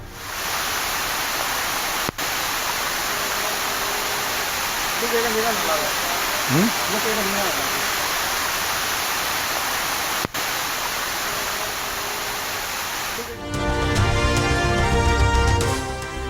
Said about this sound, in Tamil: மலை படிக்கட்டுகளில் அருவி போல ஓடும் மழைநீரில் சென்று சிறப்பு பூஜை